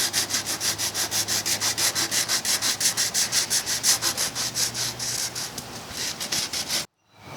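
Hand sanding of the wooden cabinet of an antique Singer treadle sewing machine makes a close, rhythmic rasp of quick back-and-forth strokes, about three or four per second, before stopping abruptly near the end.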